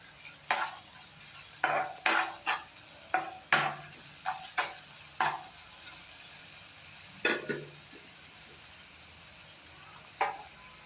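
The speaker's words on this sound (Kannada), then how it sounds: "ಸೊ ಟೊಮೆಟೊ ಹಣ್ಣು, ಸ್ವಲ್ಪ ಬೆಳ್ಳುಳ್ಳಿನ ಹಾಕ್ಕೊಂಡಿದ್ದೀನಿ. ಇದನ್ನು ಚೆನ್ನಾಗಿ ಬಾಡಿಸ್ಕೋಬೇಕು." Tomato and garlic sautéing in a pan, with repeated short stirring scrapes and soft sizzling at an uneven rhythm over a quiet background hiss, fairly close and with no talking.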